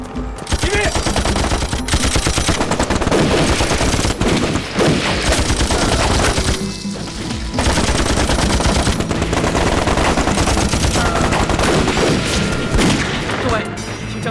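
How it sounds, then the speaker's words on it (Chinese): Heavy gunfire in a war film as Japanese troops storm a village: dense, continuous machine-gun bursts and booming blasts, loud and close, running almost nonstop for the whole stretch with a brief lull midway. "听枪声，鬼子已经冲进村子了"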